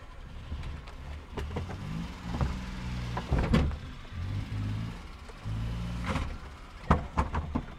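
A car engine rumbles at low revs and surges in short bursts as the vehicle is driven up onto a fiberglass door at a door factory, with faint creaks and knocks between the pushes.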